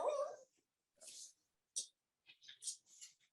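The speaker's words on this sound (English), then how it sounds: "this damn dog getting on my nerves" A dog whimpers and whines in short, high, breathy bursts separated by pauses, faint and close, with no talk over it.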